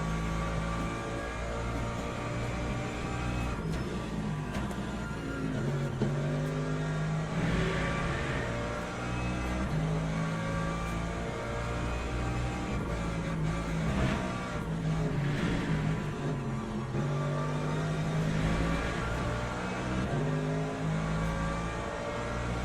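Mercedes race car engine in Le Mans Ultimate, droning steadily and loudly with rising and falling revs as gears shift through corners, continuous and close throughout with no talk.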